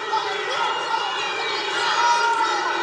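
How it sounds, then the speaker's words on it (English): A crowd chants a fighter's name at an MMA bout between Johann Rubio and Kacey Raddon, a steady, loud arena roar with rhythmic voices rising and falling throughout. "Nice Rubio chant going in the crowd here as Johann has a lot of support"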